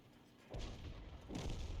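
FV 304 self-propelled artillery firing in World of Tanks, two deep booming shots about a second apart, each a low rumbling thump that lingers, moderately loud with no talk.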